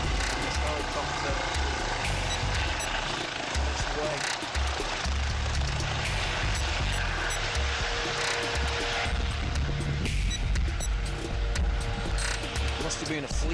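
A helicopter passes over a conference venue, its steady low rotor thump and engine roar filling the scene loudly and continuously beneath someone talking.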